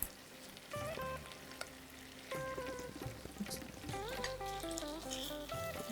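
Chitol fish dumplings sizzle in a hot pan, a steady frying hiss under clinking utensil sounds and scattered tonal kitchen noises, close and fairly quiet.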